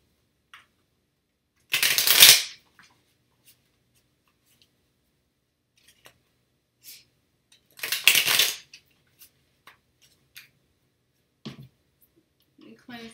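Two short, crisp bursts of tarot cards being shuffled, close and clear against near silence, followed by faint taps and handling sounds.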